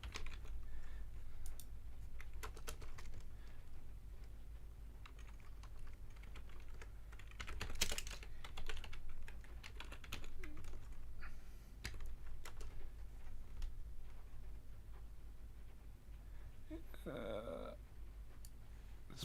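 Typing on a computer keyboard during a programming lecture: a steady run of quick, light key clicks through the whole stretch, fairly close, with no speech over it.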